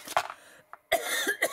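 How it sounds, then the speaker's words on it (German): A person coughs a few times in short, close, fairly quiet bursts, with brief pauses between them. "Ach, fang gleich mit Husten an,"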